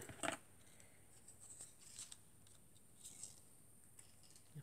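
Scissors snip a Christmas card with a few quick, light cuts, a short cluster at the start followed by scattered faint snips, close and quiet with no talking.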